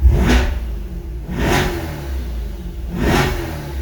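A Chevrolet Corvette C8 in track mode revs hard three times at a steady pace. The loud, aggressive exhaust bursts are heard up close through lowered windows, with no talking.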